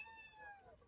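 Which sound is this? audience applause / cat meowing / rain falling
cat meowing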